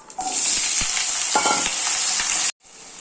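Potatoes hit hot oil with a sudden, loud sizzle and a few clatters as they are stirred, frying steadily for about two seconds before it cuts off.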